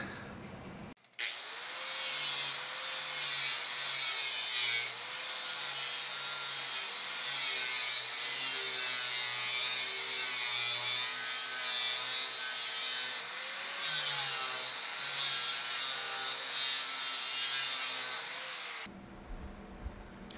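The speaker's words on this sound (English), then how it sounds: "going to start grinding this shell" The shell of a car door skin is ground down in a continuous, loud abrasive roar lasting nearly twenty seconds, with slight wavering in pitch as the tool bears on the metal, before cutting off abruptly.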